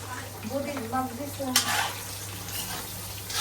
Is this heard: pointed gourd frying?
yes